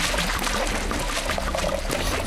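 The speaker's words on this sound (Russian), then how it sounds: "Добавим еще немного воды!" Water is poured steadily into a container, a continuous splashing, gurgling stream that stays loud and close throughout with no pause.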